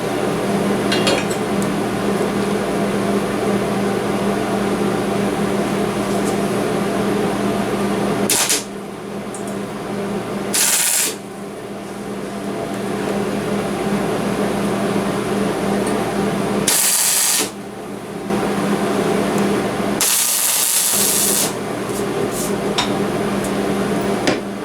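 A MIG welder tacks a steel plate onto a V8 Impreza transmission mount, with four short crackling bursts spaced apart over a steady, close workshop hum and no talking.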